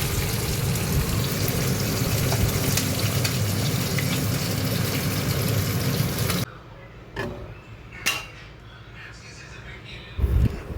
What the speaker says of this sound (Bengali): এখানে মাছ ভাজা চলছে এটা ছিল কাতলা মাছ